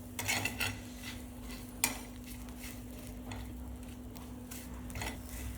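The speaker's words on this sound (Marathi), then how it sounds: "आता लसणाच्या पाकळ्या सुद्धा आपण या मिरच्यांमध्ये टाकून घ्यायच्या आहेत आणि पुन्हा असं मीडियम गॅसवर असं भाजून घेऊ" Green chillies and garlic cloves roasting in a pan over a medium gas flame, with scattered scraping and stirring knocks of a utensil against the pan over a faint steady hiss and a low hum.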